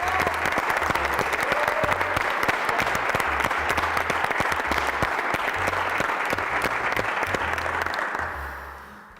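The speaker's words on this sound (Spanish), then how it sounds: "me gustaría dedicaros un aplauso a vosotros porque os lo merecéis" Audience at the final of an Asturian cachopo cooking championship breaks into continuous, dense applause, loud and even throughout before tapering off in the last second.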